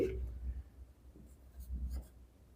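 Pen writing on paper during a Hindi-language class 10 maths lesson, scratchy strokes running steadily through the clip with a faint low hum beneath.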